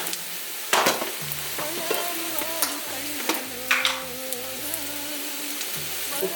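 Meat with turmeric, ginger garlic paste and coriander powder is stirred in a pan, with an ongoing sizzle and sharp scraping spoon strokes close by.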